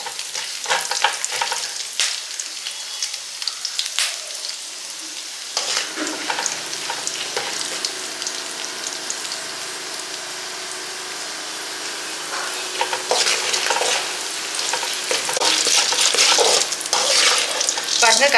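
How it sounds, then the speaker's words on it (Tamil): Chana dal, dried chillies, curry leaves and cumin sautéing in hot oil, a crackling sizzle that quiets midway then swells again with stirring, plus some water-like splashing near the end. "சீரகம் போட்ட உடனே கடலைப்பருப்பு, வத்தல், கருவேப்பிலை எல்லாமே போட்டு இதில் கொஞ்சம் சிறுஜீரகம் வதக்குங்க."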